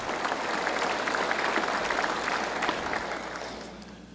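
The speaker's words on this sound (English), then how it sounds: "One more round of applause for these heroes." A crowd at a State of the State address claps in a continuous, even wash of applause honoring police and firefighters, lasting a few seconds and tapering slightly at the end.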